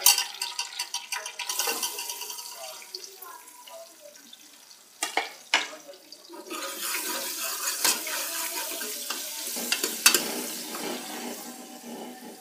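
Onions sizzle with whole cumin seeds in a hot pan for daal maash, a soft, crackling hiss that rises and falls with occasional stirring clatters, heard alone.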